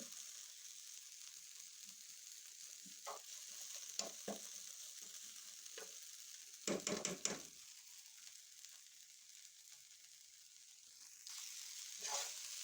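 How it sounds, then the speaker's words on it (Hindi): Potatoes and eggs frying in a pan, a steady soft sizzle with occasional stirring scrapes and a louder cluster of clatter midway, heard alone without talk. "थोड़ा सा इन्हें और फ्राई करेंगे।"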